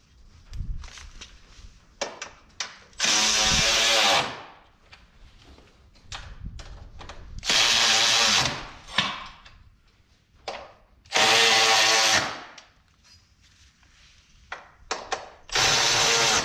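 A power drill tightens fittings on a Yamaha Grizzly 700 front brush bumper in four loud bursts of whirring, each lasting about a second, separated by clanks, handling and shuffling footsteps.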